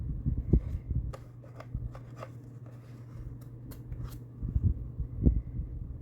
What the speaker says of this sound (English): Again, just use some sharp scissors to trim that away.